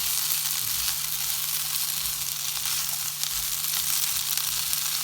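Ivy gourd pieces fry in a pan with a steady, continuous sizzle, close and fairly loud, with faint scraping as the vegetables are stirred now and then.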